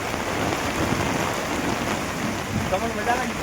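Steady heavy rain pours down in a dense, continuous hiss, loud and close throughout, with no distinct drops standing out and no voices.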